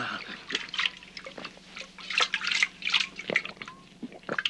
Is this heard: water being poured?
yes